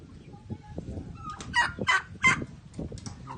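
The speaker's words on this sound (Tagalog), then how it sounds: "May manok, may pabo, may itik, ayan, ang laki." Chickens, turkeys and ducks call nearby: honking and gobbling bursts over a low background of clucking farm birds, several loud calls clustered together.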